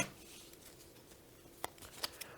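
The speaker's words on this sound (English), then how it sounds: "shuffle them back into the deck" Playing cards riffled back into a deck during a board game, a faint quiet shuffle with a few brief crisp snaps near the end.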